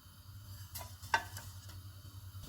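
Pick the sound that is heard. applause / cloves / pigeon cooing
cloves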